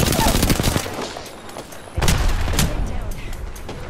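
Rapid bursts of gunfire from many squads battling at once in Apex Legends, dense crackling volleys that pause and then return with a heavy boom, mixed with voices talking.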